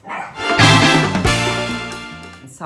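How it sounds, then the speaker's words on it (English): Dogs in a home in France bark in a close, loud burst of several overlapping barks and yips that fade near the end. "Sorry, that was the dogs."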